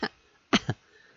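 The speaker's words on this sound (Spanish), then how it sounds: "eso comienza a toser" A young woman in an animated series coughs three times, one short cough followed after a pause by two close, fairly loud coughs, with no talking over them.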